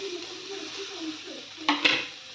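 Cluster beans hit spiced oil with turmeric and chili powder in a pan, a faint low hum followed by two brief, loud bursts of sizzling and clattering stirring close by.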